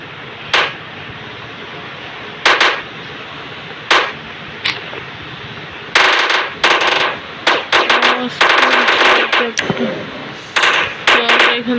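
Explosions and gunfire go off in the mobile game Indian Bike Driving 3D as sharp, loud bursts. Single blasts come at first, then dense rapid clusters crowd the later part, over a steady game hum.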